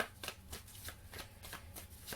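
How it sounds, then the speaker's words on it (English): Steady riffle of tarot cards being shuffled, a rapid series of soft papery flicks repeating in bursts, close by and with no talking. "Okay, let's get her. Virgo. And shuffle."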